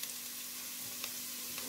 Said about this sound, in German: Die Zwiebel brate ich ganz so ein bisschen goldbraun an.